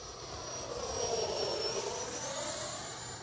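A Freewing L-15 electric RC jet on 4S power flies past at about three-quarter throttle, giving a steady whooshing ducted-fan whine that swells slightly and then holds against faint outdoor background noise.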